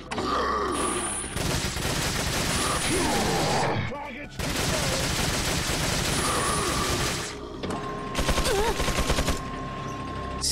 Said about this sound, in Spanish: Hago esto y le disparo continuamente.